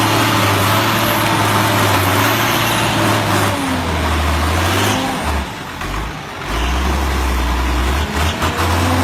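Tractor stuck in the mud of a wet rural marsh, its engine loudly revving and straining in long surges that dip and rise again, a sustained close roar throughout.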